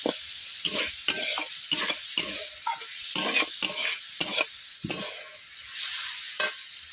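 Onions fry in a pan for a Bengali small fish curry, with a steady close sizzle broken by repeated scraping and stirring strokes of a spatula.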